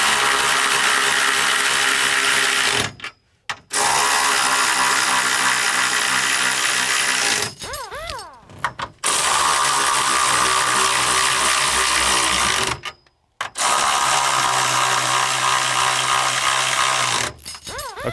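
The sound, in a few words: 17mm socket spinning down bolts on rear strut brace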